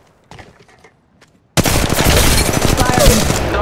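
Rapid, loud bursts of automatic gunfire from an Apex Legends Mobile battle, a near continuous dense rattle that erupts suddenly after a quieter stretch of faint clicks and movement.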